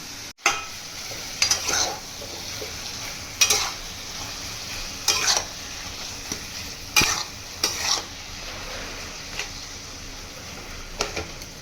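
Mushrooms sauté with spices in a hot pan with a soft, constant sizzle, while a spoon scrapes and stirs at irregular intervals for several seconds.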